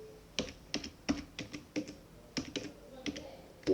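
A password typed on a computer keyboard: quiet, close key taps in irregular bursts of a few strokes with short pauses, no talking.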